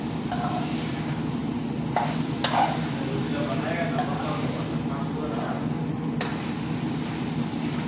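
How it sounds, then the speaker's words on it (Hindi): Tomatoes go into an eggplant mixture in a pan and are stirred, giving a continuous sizzle and fry with scraping spoon strokes and a few sharp clinks against the pan, under someone talking. "हमारा जो बैंगन के साथ माशाल्लाह इसके अंदर टमाटर"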